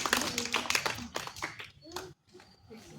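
Schoolchildren at a Republic Day celebration clapping for a student, a quick burst of overlapping claps under a speaking voice that fades into sparse taps and then a short pause.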